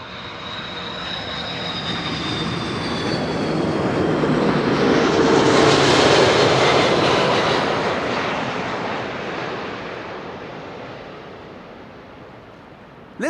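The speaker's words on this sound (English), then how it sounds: "Delta Airlines Flight 162 arrived from Minneapolis," A Delta Airlines Airbus A330-300 jet passes at Amsterdam Schiphol Airport, its engine roar swelling steadily to a loud peak mid-pass and then fading away.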